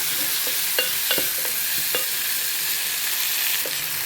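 Okra and onions sauté in a pan for okra kuzhambu, giving a loud, steady sizzle close by with a few light clicks of stirring scattered through it and no voices.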